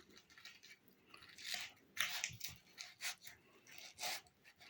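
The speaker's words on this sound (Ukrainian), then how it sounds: "і виделкою перетираю це все до однорідності" Soft, close scraping and squishing of a fork mashing cooked egg yolks, in a few uneven strokes, quiet with no talking.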